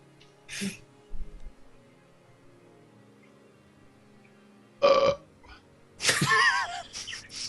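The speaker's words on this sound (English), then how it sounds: "Let me burp." A few short bursts of burping and throat noises separated by quiet gaps, ending in a longer, louder guttural belch, close and unaccompanied by speech, during a casual tabletop role-playing game session.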